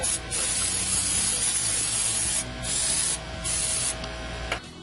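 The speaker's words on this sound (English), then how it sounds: "I'm just going to split and spray a little." Long hissing bursts of aerosol brake cleaner sprayed on brake parts, several in a row with brief pauses between, loud and close.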